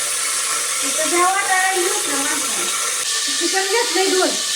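Hot oil crackles and sizzles loudly and steadily with a dense hiss as salt water is added, while a person talks throughout over the frying.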